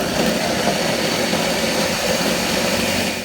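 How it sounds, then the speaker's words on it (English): A blender running continuously, blending water with cumin seed and a quarter onion, producing a steady loud whirring motor roar throughout without pause. "I'm going to add 1 cup of water and get this blended up."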